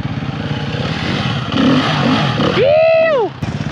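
A 2003 Honda XR100 four-stroke dirt bike runs on an enduro trail, its engine buzzing under loud wind and rider noise, then rising in a sharp rev that falls away, while a voice speaks over the ride.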